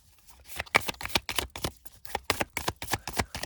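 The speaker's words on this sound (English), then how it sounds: "Okay, so let's shuffle from this." A quick run of crisp, papery tarot card riffles and flicks, repeated in short bursts with an uneven rhythm, close up and fairly soft.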